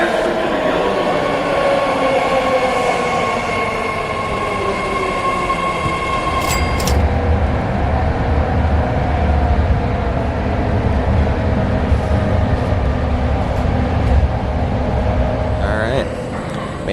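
A BART subway train rumbles steadily on its rails, with a rising whine and a brief high screech partway through, loud and close throughout.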